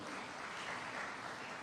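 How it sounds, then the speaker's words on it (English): Applause for the Governor of Nairobi at a Kenya Young Parliamentarians Association launch event, a steady wash of many hands clapping, fairly faint and distant. "Please clap for our Governor."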